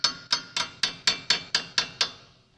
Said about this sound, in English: let me just use this chisel.